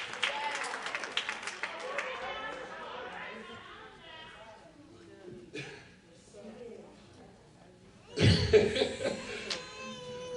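A church congregation claps and cheers during a sermon, starting as a scattered burst that fades away. A second loud wave of applause and voices rises near the end.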